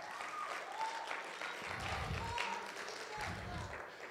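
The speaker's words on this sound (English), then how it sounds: "That's a good place to clap. Go ahead and clap." Church congregation clapping during an evangelist's sermon, a dense continuous patter of many hands filling the room for several seconds, with low rumbling thumps and voices mixed in.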